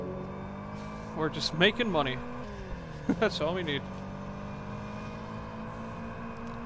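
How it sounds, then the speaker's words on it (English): Other cars in the Test Drive Unlimited: Platinum racing game drive past, their engines rising and sweeping by in two quick passes over the player car's steady hum. Someone talks over the passes. "You could already hear the other cars do have nice sounds to them."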